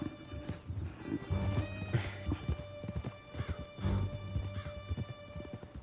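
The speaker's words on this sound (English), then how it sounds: "Stupid fucking horse." Horse hooves clip-clop in a steady galloping rhythm in the video game Red Dead Redemption 2, with a whinny breaking through and a game music bed humming underneath.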